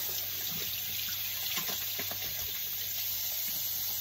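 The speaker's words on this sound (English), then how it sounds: "Wash my hands." Tap water runs steadily into a sink during hand washing, a constant close hiss with faint splashing and no voices.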